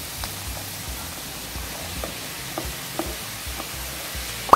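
Tomato hits wilted onions sautéing in a pan, producing a steady soft sizzle with faint crackles and occasional stirring clicks, heard close and alone without talk.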